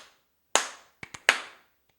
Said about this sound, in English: Boom, get them claps.